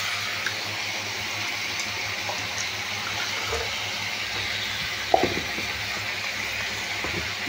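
Water poured into a cooking pot for a potato, greens, green plantain and shingi fish curry makes a faint, continuous splashing under a hiss of background noise, with one brief clank near the end.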